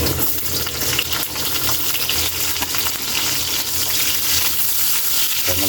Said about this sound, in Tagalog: Gigisa lang natin yan. Wow, ilagay natin Kaylee ang ating sibuyas.